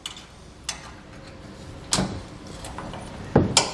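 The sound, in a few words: trim tool prying plastic fasteners free under a truck bed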